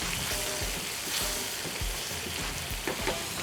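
White wine sizzles and bubbles as it cooks off around risotto rice grains in a pan, with a steady frying hiss and occasional soft stirring scrapes, close and continuous without any talking.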